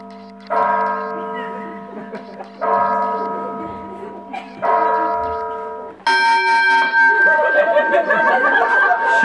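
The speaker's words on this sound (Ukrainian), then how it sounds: "Що за дзвін у вашій хаті?" A bell rings three separate, ringing strokes that each decay slowly. A brighter, busier chiming follows, with faint chatter underneath.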